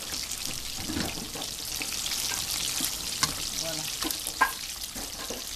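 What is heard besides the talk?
okra and onion frying in a pan with tilapia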